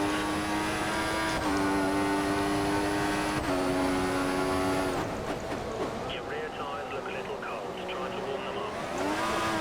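A Formula 1 car engine in the F1 2014 video game on the Austria circuit, a loud high-pitched whine that climbs through the gears, drops sharply when braking for a hairpin, then revs back up, steady and up close.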